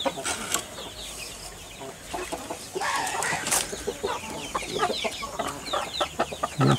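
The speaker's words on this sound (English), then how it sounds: "They're pretty good looking chickens." Chickens cluck and call repeatedly around a farmyard where larger Brazilian-type birds are kept, with a rooster-like squawk and some wing flapping mixed in, fairly close and with no talking.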